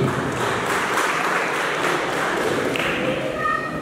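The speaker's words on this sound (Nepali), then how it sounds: "जोरदार तालीले स्वागत गर्नुपर्ने हार्दिक अनुरोध गर्दछु।" Dense, steady applause from an audience welcoming a guest at a karate academy farewell event, loud and continuous throughout with no clear breaks.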